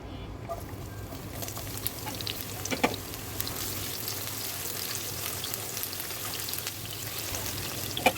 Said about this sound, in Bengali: তাই আমি এখন গরম তেলের মধ্যে পেঁয়াজ দিয়ে দিলাম